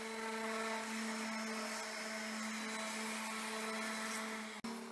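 Orbital sander softening the edges of freshly cut wood for a workbench upgrade, a steady close whining hum with a strong constant tone, running without a break for the full few seconds before a brief cutoff near the end.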